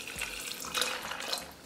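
Water pours steadily into a blender with cashews for a creamy base, a continuous close splashing stream with no talk.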